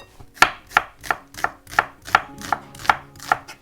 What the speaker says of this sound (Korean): 양파 그냥 편하게 막 뚝뚝 썰어주세요